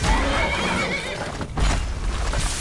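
A horse in the video game Skyrim lets out a loud, drawn-out neigh close by, with clip-clop hoofbeats mixed into dense surrounding battle noise.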